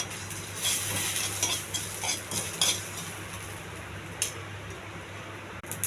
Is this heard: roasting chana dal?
yes